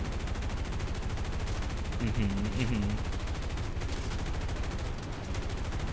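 Gunfire in a War Thunder tank battle, heard as dense, rapid machine-gun rattling that runs continuously at a loud, even level, with a voice briefly audible in the mix.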